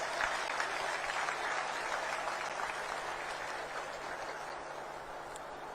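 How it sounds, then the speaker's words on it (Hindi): Applause from an audience after a yoga demonstration at an International Yoga Day event in Haryana, a dense, sustained clapping that holds steady and slowly fades slightly over nearly six seconds, with no talking over it. "एक बार जोर से इनके अभिनंदन में तालियां बजाएंगे।"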